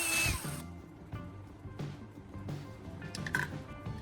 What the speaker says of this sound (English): I used a drill to make a small hole between the two charging pins.